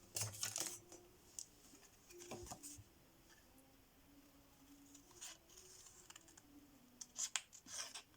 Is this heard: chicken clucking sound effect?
no